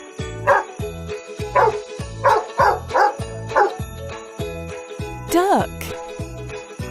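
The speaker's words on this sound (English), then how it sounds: "Dog." A dog barks in a steady run of about a dozen close, evenly spaced woofs over a background of light music, ending with a higher yelp.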